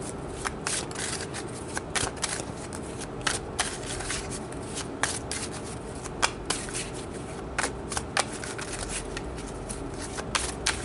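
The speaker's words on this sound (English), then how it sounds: "let's pull a few more cards to further define this here" Tarot cards are shuffled by hand in a continuous close riffle, with soft papery rustling punctuated by irregular sharper snaps and slaps, at low level and without speech.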